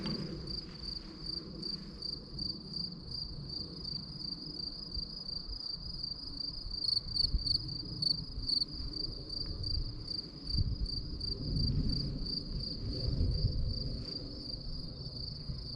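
Crickets chirp in a steady high-pitched pulsing chorus outdoors, with faint rustling and low background rumble beneath, likely including a passing Austrian Airlines aircraft.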